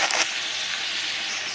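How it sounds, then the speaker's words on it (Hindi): Chicken fries in a pan with a steady, soft hiss that holds evenly through the brief moment. "मैं चिकन को अच्छा से फ्राई करेंगे।"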